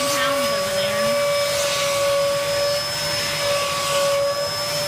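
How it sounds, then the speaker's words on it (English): Vacuum cleaner sucking loose shed hair from a lying dog's coat, a loud continuous whine with a steady high tone held for the whole stretch. "To vacuum all the loose hairs out."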